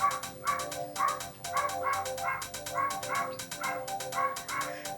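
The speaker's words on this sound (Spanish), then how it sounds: "Perdón por Rafa que está ahí ladrando." Dog barking in a room during a needle felting lesson, a steady run of sharp, repeated barks in quick groups, near and fairly loud, with no talk.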